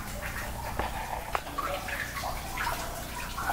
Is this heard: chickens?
no